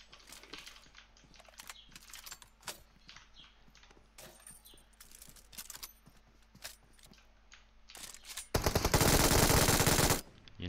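An MG3 machine gun in PUBG Mobile rattles off a loud, sustained burst near the end, preceded by scattered clicks and distant shots.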